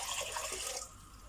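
Plain tap water pours steadily into a pot for a cucumber marinade, a soft, brief, even splash that fades slightly at the end.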